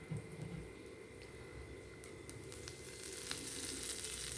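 Mustard seeds, a tablespoon of chana dal and curry leaves sizzling in oil for a tempering, a steady soft crackle with faint pops that grows slightly louder toward the end.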